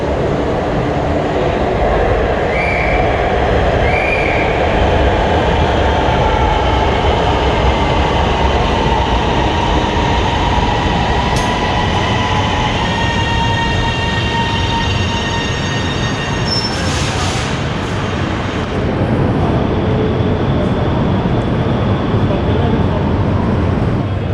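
An Orange Line metro train in Lahore rumbles loudly and steadily throughout, with high wheel squeals and faint beeping tones partway through, and voices murmur beneath the roar.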